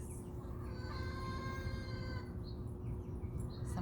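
Backyard chickens cluck and call softly, a faint close-up murmur of fowl over a steady low background hum.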